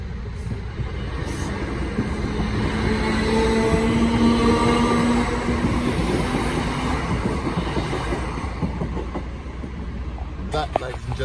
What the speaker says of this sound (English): And there's a train there.